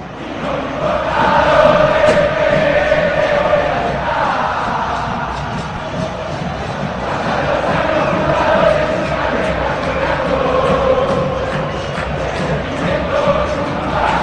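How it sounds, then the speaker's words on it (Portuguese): Boca Juniors supporters chanting at La Bombonera stadium during a Libertadores match against Palmeiras, a huge crowd singing in unison with a rolling, sustained roar that swells and dips across the stands. "canta a torcida do Boca, sinta o clima em La Bombonera"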